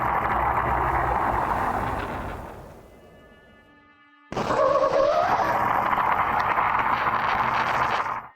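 Harsh static hiss fades out to a brief tonal ring, then a sudden loud burst of crackling static with a rough, snarling growl cuts in.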